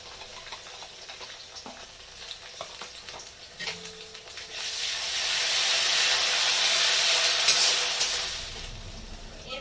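Ginger paste dropped into hot oil with frying onions and garlic for a young goat mutton curry; a quiet crackle and stirring ticks swell halfway into a loud, steady hiss that eases off near the end.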